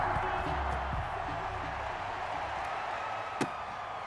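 Steady stadium crowd roar in Madden NFL 21 before an Eagles versus Giants kickoff, a dense continuous wash of cheering throughout with a brief sharp knock near the end.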